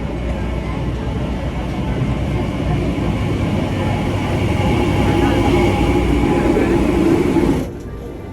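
A Caracas metro train in Venezuela rumbles loudly and steadily as it runs, building slightly before cutting off sharply near the end; a person talks over it.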